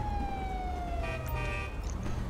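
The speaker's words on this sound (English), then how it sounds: "let me turn my sirens off right quick" A police car siren in GTA V with the LSPDFR mod slides and holds over a heavy, constant engine drone, loud and near, with no speech over it.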